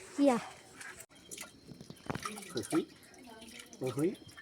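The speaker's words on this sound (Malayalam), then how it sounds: "ഇച്ചിരി വെള്ളം ഒഴിക്കാം" Water is poured in short splashes close by during fish cutting while people talk over it.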